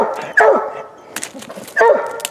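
Hunting dogs, including a cur dog and a Walker hound, bark at a den tree holding a possum or raccoon, giving two loud, close, bawling barks about a second and a half apart with faint yips between.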